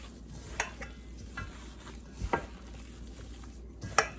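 Hands mixing meatball mixture of ground meat, spices and breadcrumbs in a bowl, giving soft squelching and scraping with a few sharper knocks against the bowl, fairly close and with no talk.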